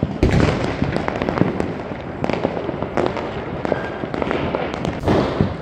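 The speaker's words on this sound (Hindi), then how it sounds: "यहाँ पे चारों तरफ अच्छी आतिशबाजी हो रही है" Diwali fireworks and rockets go off all around, heard from a terrace. Dense, continuous crackling and popping is broken by sharper bangs, loud and unbroken, with no talk.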